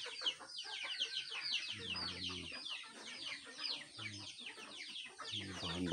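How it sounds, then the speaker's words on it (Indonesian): Chickens cluck and squawk in a busy, continuous chorus of overlapping calls, close and fairly loud, at a livestock feeding session on a farm. "Bahan bakunya udah siap nih, ayam-ayamnya ini."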